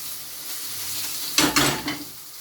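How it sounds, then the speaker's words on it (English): Scallops hit a hot pan with a sudden loud sizzle, followed by a second burst, then a steady crackling fry over a faint background hiss. "I'm going to put them in one by one because these little babies will sizzle"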